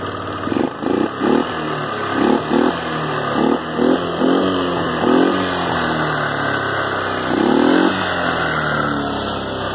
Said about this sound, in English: And it took a minute to get the bike running.